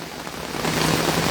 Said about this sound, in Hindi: अब आप देखिएगा बारिश और तेज हो गई है